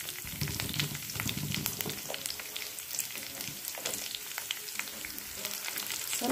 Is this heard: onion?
yes